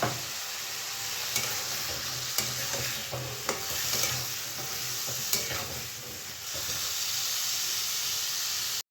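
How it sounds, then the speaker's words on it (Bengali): Kohlrabi curry frying in a pan with salt and turmeric, a steady close sizzle and hiss with a few sharp scraping stirs from a spatula, no voices. "পরিমাণ মতো নুন দিয়ে দিলাম আর দিলাম হলুদ। এবার আমি খুব ভালো করে ভেজে নেব।"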